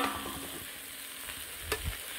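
Water lily stems fry with mustard and dried chili in a pan, giving a soft continuous sizzle with a couple of brief stirring knocks near the end.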